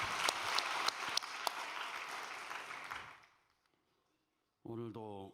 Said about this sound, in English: Why don't we give him a big round of applause?